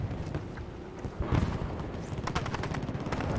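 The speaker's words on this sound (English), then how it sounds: "Who's shooting me?" Gunfire in the video game Battlefield 2042, with dense rapid shots and bursts that grow louder and more crowded partway through, continuing steadily to the end.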